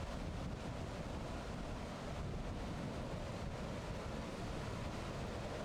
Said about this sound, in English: Not with that wind. Off and on gusts.